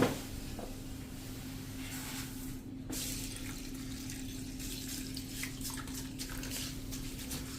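Water sloshes and trickles continuously under a low, steady hum, with faint splashes as rice flakes and fenugreek seeds are rinsed by hand for dhokla batter.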